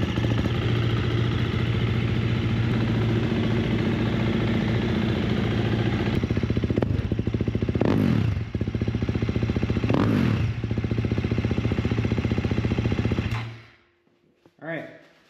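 A 2024 KTM 350 SX-F dirt bike engine runs after an oil change, a loud, close, steady idle with two brief blips of throttle before it is shut off and cuts to quiet, followed by a faint clatter.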